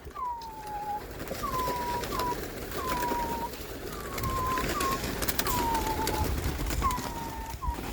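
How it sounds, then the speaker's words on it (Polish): Pigeons coo repeatedly in a steady rhythm, several soft drawn-out calls close by from a loft of about 170 birds, over low background noise. "A gołębi jest 170."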